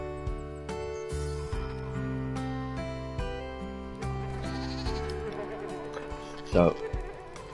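Goats in the farming game Farm Manager 2022 bleat over ongoing game music, with a buzzing insect-like hum and one louder burst near the end.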